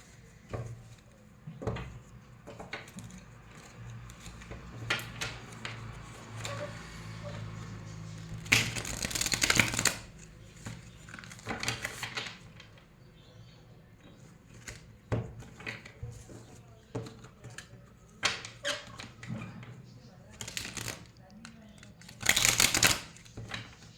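Tarot cards are riffled and shuffled in repeated quick flurries, with a couple of louder bursts, between quieter handling sounds.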